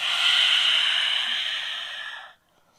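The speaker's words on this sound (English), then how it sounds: "Take another deep breath in through the nose and exhale through the mouth." A deep breath drawn in through the nose and let out through the mouth during a stress-reducing hip-opening yoga session, one long steady airy exhale, close and clear, ending abruptly in quiet.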